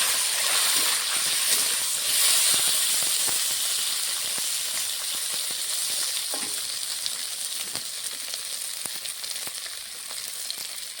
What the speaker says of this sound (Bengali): তেলটা গরম হয়ে গেছে, এখন আলুগুলো ভেজে নেব।